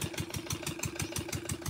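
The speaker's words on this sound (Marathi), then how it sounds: "जिथे किर्लोस्कर इंजिनवर STP सुरू आहे" A Kirloskar engine powering a sewage treatment plant on a goat farm chugs at a steady idle with evenly spaced low thumps, close and continuous, with no voices.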